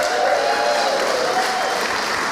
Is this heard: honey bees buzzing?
no